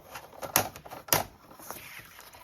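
Two sharp, crisp snips of scissors cutting Tim Holtz special paper, close and fairly quiet, with faint rustling in between.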